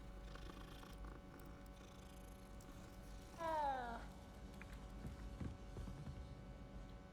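A cat purrs in the Hogwarts Legacy video game as a low, steady rumble under faint background game ambience, with a brief meow-like chirp in the middle and quiet talk nearby.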